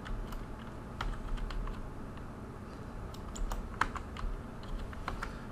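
Quick, light keyboard typing clicks in bursts, entering network router commands, over a steady low background hum, quiet and close.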